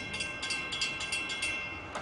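A train passes through a small Oklahoma town, a steady rumbling roar with faint rhythmic clatter pulsing from the wheels, heard alone at moderate distance.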